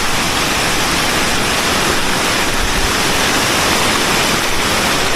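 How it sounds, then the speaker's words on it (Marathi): Stream water rushes over a water crossing near the Kondana caves, a loud, dense and constant roar of flowing water with no talk. "हे बघा हे दुसरं आपल्याला वॉटर क्रॉसिंग लागलं आहे"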